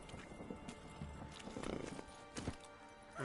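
Horse in The Witcher 3: Wild Hunt, soft hoof clip-clops with a whinny, faint and low in level, with occasional quiet voices.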